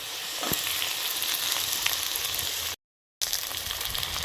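Chopped onion fries in hot oil with potatoes, giving a dense, steady sizzle and hiss with a few stirring clicks, briefly cut to silence before the sizzle resumes.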